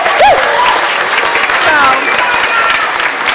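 Loud, sustained applause from a theatre audience after a stage show with a large cast of kids, a dense steady clatter of clapping throughout, with a voice briefly speaking over it.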